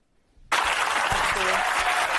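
Studio audience breaks into sustained applause after a near-silent start, a dense wall of clapping that stays loud and steady to the end.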